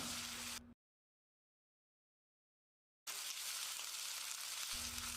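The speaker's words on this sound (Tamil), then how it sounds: "இதையும் போட்டு நல்லா மசிகிற அளவுக்கு வதக்கிடலாம்" Finely chopped tomatoes sizzle and fry with onions in a hot pan while cooking chicken kulambu, a steady close hiss that cuts out into silence and then resumes just as strong.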